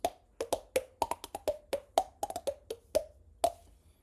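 Body percussion played by tapping on the chest and face. Quick, hollow, slightly pitched pats come in an uneven rhythm, about a dozen soft close hits, some doubled, with nobody talking.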